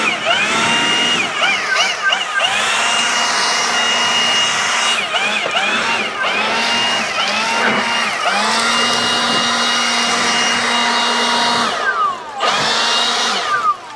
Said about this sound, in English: I got the little Milwaukee handheld here to blow them out around kind of tight places